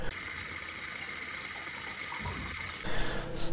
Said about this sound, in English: I finally got my Stirling engine from Christmas running.